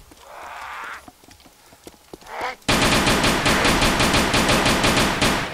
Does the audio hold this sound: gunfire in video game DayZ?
yes